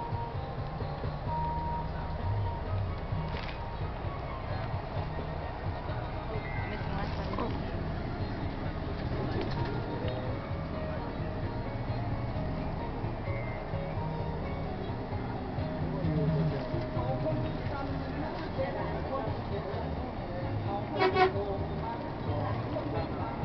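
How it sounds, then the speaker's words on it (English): Inside a bus on a journey in Wales, a steady engine rumble and road noise fill the cabin throughout, with faint talk and a few brief tones and horn-like beeps. "first bus journey in Wales"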